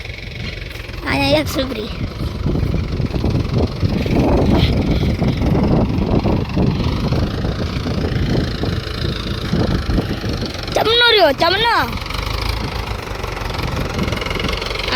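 A tractor engine runs near at hand with a steady low chugging. People talk over it, and two brief high whistling sweeps stand out.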